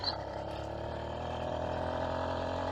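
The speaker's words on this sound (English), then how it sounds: "Just a nice idling," A Huffy Nel Lusso motorized bicycle's small engine idles with a steady, even drone throughout, a continuous close mechanical hum with no change in pace.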